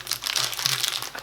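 Close crinkling and crumpling of a McVitie's Club salted caramel biscuit wrapper being pulled open, a quiet, steady rustle of plastic foil with no talking.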